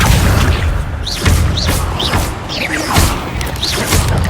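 Accio summoning spell cast in Hogwarts Legacy: a series of loud whooshing bursts with rising magical chirps and heavy booming thuds, repeating roughly every half second over a rumbling game backdrop.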